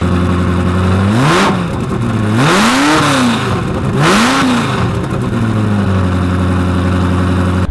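A blue Ferrari F40 with a straight-pipe exhaust revs hard again and again, each throttle blip rising and falling over a steady, loud, close idle rumble.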